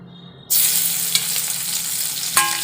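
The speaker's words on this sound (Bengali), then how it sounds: "তো দেখুন তেল গরম হয়ে গেছে, দিয়ে দেব রসুন কুচি" Chopped garlic hits hot oil in a wok with a sudden loud burst of sizzling that continues strongly. A quiet hum comes before it, and a utensil clinks near the end.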